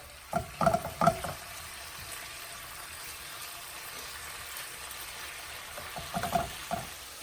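A spoon clatters and scrapes a few times while stirring a soy sauce mixture in a pan, with a soft low sizzle filling the gaps between the bursts of stirring.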